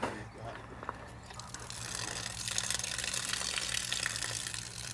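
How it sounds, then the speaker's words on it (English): Water runs steadily from a storage tank spigot, a soft gushing stream that grows slightly louder partway through over a low background hum. "That water is crystal clear that's coming out of those tanks."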